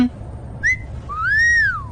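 A comic whistle effect: one short whistle blip, then a longer tone that rises and falls, loud and clear with no voices.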